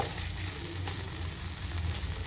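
Dried chillies frying in a hot pan for paneer butter masala: a soft, continuous crackling sizzle, fairly quiet and steady, with no voices.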